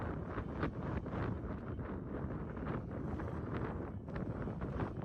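Wind blowing steadily by the water at a riverside fishing spot, a continuous broadband roar with gusty swells buffeting the microphone throughout, no voices.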